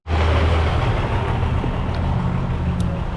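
On a hot street in the largest Cuban city in the US, a motor vehicle passes close by. Its loud, broad engine-and-road rumble stays strong for the whole few seconds.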